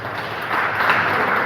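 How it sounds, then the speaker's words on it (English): Audience applause at a poetry and storytelling festival, a dense steady wash of clapping that swells slightly midway and continues without talk. "Please give her a round of applause."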